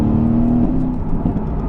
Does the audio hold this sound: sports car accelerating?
yes